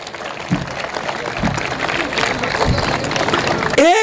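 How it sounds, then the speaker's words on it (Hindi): A crowd claps at a Hindi comedy poetry gathering in Kalamboli, uneven applause rising across the clip under a few voices and crowd noise, ending with a brief tonal sound. "तालियां बजाइए एक बार जोरदारी से"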